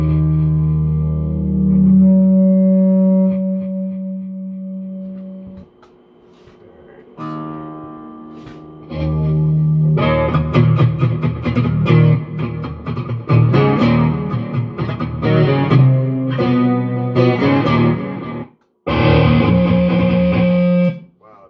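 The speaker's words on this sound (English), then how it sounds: "Distortion, man." An electric guitar played through a distortion effect during band practice: sustained distorted chords and notes, then dense, loud crunchy strumming with brief pauses and some reverb.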